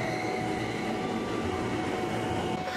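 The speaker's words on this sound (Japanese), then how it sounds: "なんか緑色の可愛い車両が走行していますけれども" An old green JNR-era train car, in service for about 50 years, runs past a platform at JR Kyoto Station, giving a steady, fairly loud rolling rumble with no talk over it.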